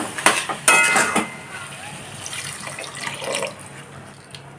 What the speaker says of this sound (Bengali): এখন হালকা কষিয়ে নেব নিয়ে গরম জল অ্যাড করে দেবো